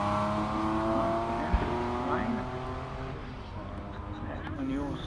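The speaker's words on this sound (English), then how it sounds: "Accelerates hard now and heads for the line" A race car on a hill climb course at Loton Park accelerates hard, its engine rising in pitch through the gears at moderate distance, heard under a commentator's talk.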